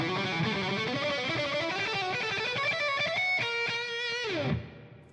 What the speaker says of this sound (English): So the chunk now ends with the downstroke plus pull-off,